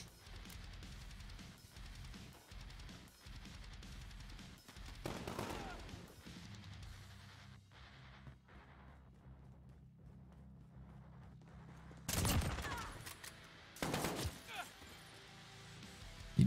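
Gunshots in a shooting video game played on a Nintendo Switch, with scattered sharp shots and a couple of loud bursts near the end, mixed under a player's voice.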